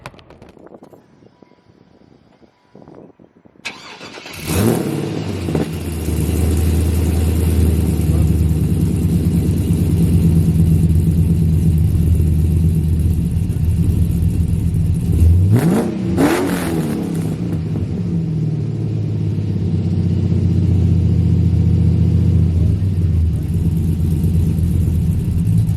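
A 5.3 V8 engine starts up after a quiet moment and settles into a loud, steady, rumbling idle. Around the middle it revs sharply once and drops back, with a person talking underneath.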